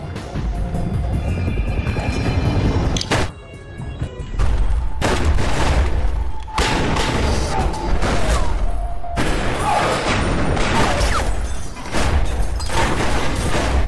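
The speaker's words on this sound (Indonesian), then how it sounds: "Detektif Tracy ditembaki oleh dua orang penjahat yang sedang merampok" Rapid bursts of gunfire crack in a film shootout between a detective and two robbers, loud repeated volleys separated by short pauses over a busy, noisy action soundtrack.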